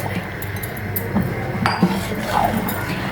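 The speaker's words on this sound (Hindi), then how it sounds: "यहाँ पे तकरीबन 2 कप जो मैंने चीनी ली है वो इसमें डाल दूँगी" About two cups of sugar go into a pot for tamarind and plum sherbet, heard as a few light clinks of a utensil against cookware over a quiet kitchen background.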